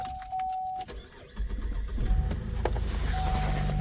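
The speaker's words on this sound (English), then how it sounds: "Now I'm gonna start the car and gonna double check if the seat works." A 2011 Chevrolet Malibu starts up: quiet clicks and a brief electric whine, then the engine cranks and catches into a low, steady idle heard close by.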